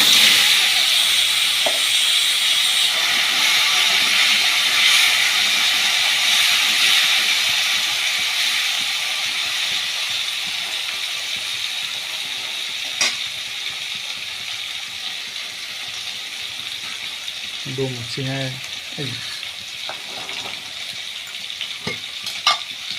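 Red pumpkin and cumin fry in a pan, a loud broad sizzle right after the pumpkin goes in that slowly eases to a quieter hiss, with a few light clinks and scrapes of stirring near the end.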